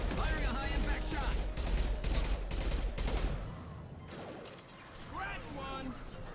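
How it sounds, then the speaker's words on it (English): Rapid bursts of gunfire and mechanical clatter from a high-impact shot in the video game Legendary, loud and dense for about three seconds before dropping to quieter rattling and a brief sizzle. "Firing a high impact shot."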